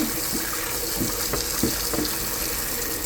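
Running water pours steadily from a tap onto a Stratasys J5 3D print to wash off its support material, a constant close hiss and splash that fills the whole stretch, with no voices.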